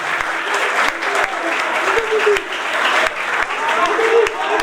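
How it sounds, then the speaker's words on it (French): A crowd applauds during a football legend's visit to a school, steady dense clapping throughout with a few sharper claps standing out, and voices calling and talking beneath it. "Applaudissements encore pour le garçon, s'il vous plaît."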